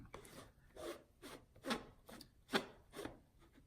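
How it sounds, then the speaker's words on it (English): 1962 Questar telescope corrector lens being unscrewed, making a series of about eight short, close, faint rasping scrapes in an uneven rhythm. "And so now I'm just going to unscrew this."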